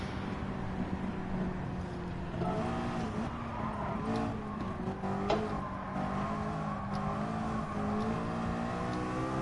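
A Chevrolet Camaro in a racing video game holds a loud, steady engine drone with shifting pitch and faint tire squeal, running continuously throughout.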